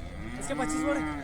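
A low, drawn-out moo from a bull rises above a busy outdoor crowd at a bullock market in Buldhana district, with chatter and market bustle all around.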